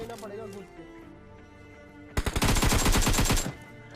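Rapid automatic gunfire in PUBG Mobile, a sharp burst of closely spaced shots lasting over a second, loud and close, following quieter game sounds.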